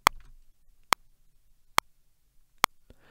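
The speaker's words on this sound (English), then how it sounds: "let's get rid of that click track" Metronome click track at 70 beats per minute for a drum pattern, giving four sharp, evenly spaced clicks alone against near silence.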